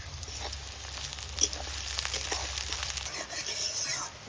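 Onions frying in oil for birista: a steady, soft sizzle with faint crackling, fairly close, under occasional quiet talk.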